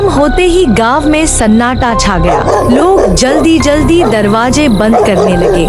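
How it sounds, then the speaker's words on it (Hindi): Dogs bark and yip in a village at night beneath loud, continuous narration that covers most of the sound, in a horror cartoon. "कुत्ते भौंक रहे थे।"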